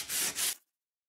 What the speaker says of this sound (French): Le papier est légèrement glacé. Donc, je vais poncer.